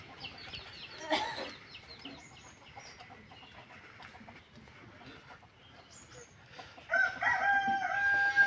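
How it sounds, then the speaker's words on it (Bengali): Domestic chickens in a village household yard cluck softly and intermittently, and a rooster crows nearby with a loud call near the end. The scene is fairly quiet and no one speaks. "ওই ঘরে মুরগি আছে হ্যাঁ।"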